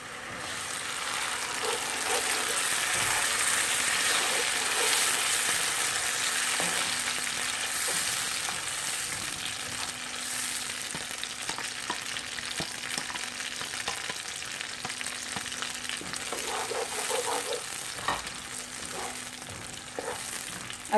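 Onions and tomato paste fry in a pan for chicken angara, a soft, even sizzle running throughout with occasional light stirring taps, fairly quiet and close, and no one speaking.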